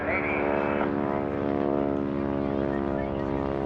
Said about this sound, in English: the high alpha pass means he's going to pull the nose way up above the horizon and bring the power back